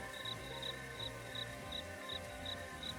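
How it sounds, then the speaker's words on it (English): Crickets chirp in a forest in a quiet, regular pulsing pattern, with soft even bursts repeating steadily against a low background hum. "they began hearing more noises such as owl hoots, crickets chirping, toads belching, many different creatures of the forest"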